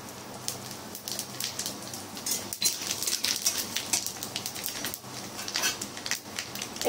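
Cumin and five-spice seeds added with a bay leaf to hot oil for a vegetable dal, crackling in a dense, close sizzle with scattered sharper pops throughout, and no voices.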